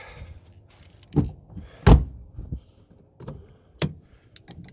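An older car door, freshly greased with lithium grease to fix squeaking and sticking, is swung and closed in a few separate heavy thunks and latch clicks. One strong slam stands out among quieter knocks.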